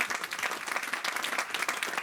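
A church congregation at a worship service bursts into dense, steady applause, many hands clapping together at close range for about two seconds, with a faint murmur of voices underneath.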